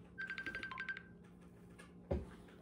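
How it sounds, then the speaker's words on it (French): A telephone rings in a quiet indoor space, its short repeated electronic tones pulsing for about a second, followed by a single dull thump. "Téléphone n'a sonné."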